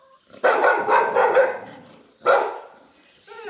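Two loud bursts of dog barking, close by, a long rough bark followed by a shorter one, with a brief yelp at the end.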